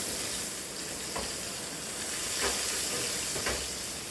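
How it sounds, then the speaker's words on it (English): Wagyu beef filet steaks sizzle in hot grease, a steady crackling hiss with a few louder spits and pops, close and continuous with no talking. "when you put your steaks on, that grease separates"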